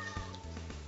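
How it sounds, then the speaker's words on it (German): A hungry cat meows, giving a few short, close calls in quick succession against a quiet indoor background. "Die Katze hat Hunger."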